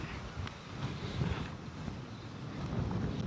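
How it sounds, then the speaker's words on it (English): Wind gusts and buffets the microphone at backyard dirt jumps with a low, rumbling roar that swells and eases, fairly faint, with no voices. "it's windy"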